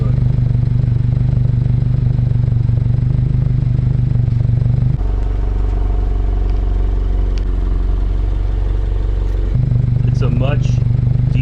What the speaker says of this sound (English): I think the single exit exhaust has the right sound.